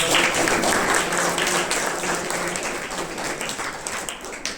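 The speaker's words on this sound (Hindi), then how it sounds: "ताली बजाकर दादाजी का।" An audience at a Brahma Kumaris pathshala gathering claps for an elderly grandfather figure seated on stage: sustained, dense applause that fills the room, steady and fairly loud before slowly thinning toward the end.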